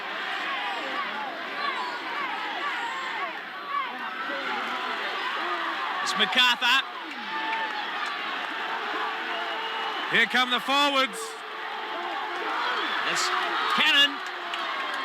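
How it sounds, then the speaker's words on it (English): A 1986 Round 25 rugby league crowd at Norths versus Balmain roars for the Bears near the end of the match. The dense, steady crowd noise carries beneath continuous play-by-play commentary, with a few louder swells. "The crowd is roaring for the Bears here."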